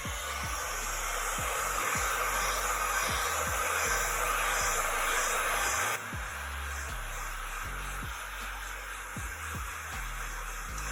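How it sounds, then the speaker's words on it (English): A 600-degree heat gun blows hot air onto a PC memory stick heatsink, a steady close whooshing roar with a rhythmic thumping pulse running under it throughout and a slight drop in level partway. "So we have here a heat gun that goes to 600 degrees."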